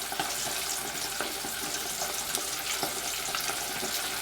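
Chicken deep frying in hot oil on a gas stove gives a steady, bright sizzle with small crackling pops throughout.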